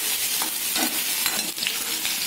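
Green chilies and curry leaves sizzle and crackle in hot oil in a pan while being stirred, a close, continuous frying hiss with soft scraping strokes of the stirring.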